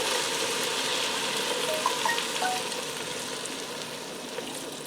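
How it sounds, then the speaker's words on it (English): Beef broth poured into a hot Ninja Foodi multicooker pot for bacon cheeseburger gnocchi, giving a steady, close hissing sizzle that runs for the whole stretch with no talking. "I'm going to add in 1 cup of beef broth"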